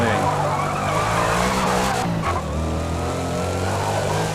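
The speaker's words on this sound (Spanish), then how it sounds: "Qué buena salida, con un buen deslizamiento ahí." Tyres squeal under a 2020 Shelby GT500 launching in a racing game, with a loud continuous skid over the engine roar, easing slightly after two seconds as the car pulls away.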